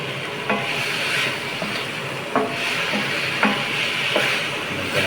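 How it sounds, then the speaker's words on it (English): Sugar sizzling steadily in a hot pan as it is deglazed, a continuous frying hiss broken by a few sharp clinks of a utensil against the pan. "Maybe we can deglaze a little bit of sugar."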